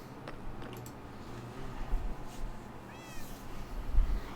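A cat in the video game Minecraft lets out a short, fairly faint meow partway through, set against a noisy background with a few soft clicks.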